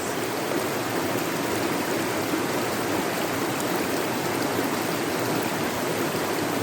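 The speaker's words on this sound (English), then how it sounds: "stand underneath this most refreshing waterfall, allow the water to purify and cleanse" Steady, loud rush of falling water from a waterfall, a continuous broadband roar with no change or pause and no voices.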